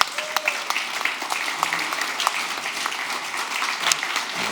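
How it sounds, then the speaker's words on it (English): Audience applause at a live Codegarden 2025 conference session, a steady crackle of many hands clapping at moderate level for several seconds, with a voice briefly audible under it. "Give them all a round of applause"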